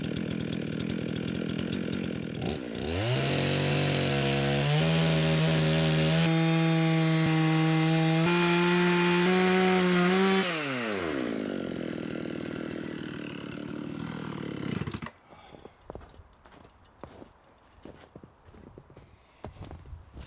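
A chainsaw mill revs up and runs at a loud, sustained whine as it cuts a 2 1/4 inch slab from a log, pitch shifting under load, then winds down before quieter clattering.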